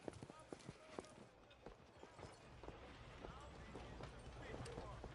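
A horse gallops in the western game Red Dead Redemption 2, with steady rhythmic hoofbeats under continuous spoken dialogue and low ambient noise.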